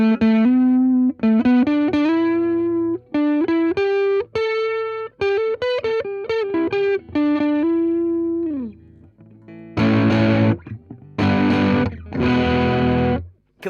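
Electric guitar through a tube amp plays clean melodic notes, then switches to loud, gritty overdriven chords in short bursts.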